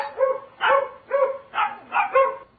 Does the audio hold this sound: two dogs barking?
yes